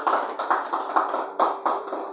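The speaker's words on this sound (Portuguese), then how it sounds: "Palmas para Jesus" A church congregation claps for Jesus, with a loose rhythmic burst of many hands clapping together in an indoor hall, steady and fairly loud.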